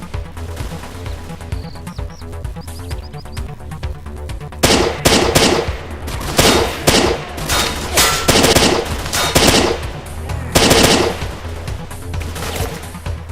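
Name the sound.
rifle firing bursts in video game S.T.A.L.K.E.R. mod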